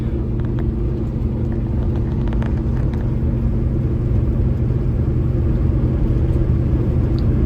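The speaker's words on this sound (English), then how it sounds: "Ready to try this jake brake?" A Peterbilt truck's jake brake (engine brake) engaged on full, giving a steady, loud low rumble that holds evenly throughout with no talk over it.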